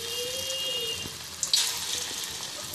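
Coated chicken pieces frying in oil for sweet and sour chicken, a steady broad sizzle that continues throughout with a brief louder crackle midway, close and with no talking.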